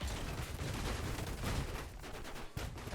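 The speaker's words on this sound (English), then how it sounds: "look at that cannon fly" A cannon fires in the Trailmakers video game, heard as a dense, loud, continuous blast-like roar with a couple of sharper thumps near the end.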